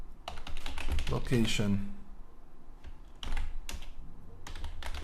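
Code being typed on a computer keyboard: quick bursts of close key clicks, then a pause, then more scattered keystrokes, with someone talking over parts of it.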